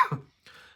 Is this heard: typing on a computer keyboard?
no